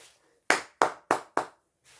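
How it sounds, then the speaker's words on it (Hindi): Four sharp, evenly spaced claps ring out in unison from a crowd at a Hindi public gathering, with a brief pause and a faint start of another clap at the end. "ताली।"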